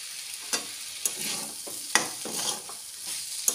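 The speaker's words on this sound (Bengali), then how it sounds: "সবজি কিন্তু ভাজা হয়ে গেছে, নরমও হয়ে গেছে" Softened vegetables frying in a pan and stirred with a utensil during preparation of a bottle gourd leaf snack: sharp scraping strokes about twice a second over a bright, close sizzle, no speech.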